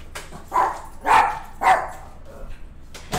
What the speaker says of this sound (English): That's my little doggy.